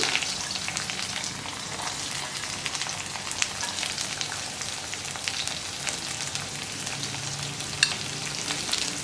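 Dried chili, sliced onion and curry leaves stir-frying in oil in a pan for a spring onion thoran: a steady close sizzle with crackles and the scrape of stirring, with no talk.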